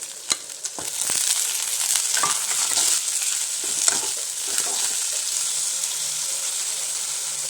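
Okra and tomato for Kerala sambar frying in a pan, a steady hissing sizzle close up with a few sharp stirring clicks and scrapes near the start, continuing evenly throughout.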